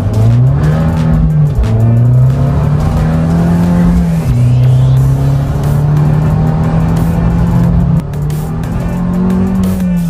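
A roughly 200-horsepower Abarth car accelerating hard in sport mode, its loud engine climbing through revs with several gear changes, heard close up from inside the car with a continuous roar.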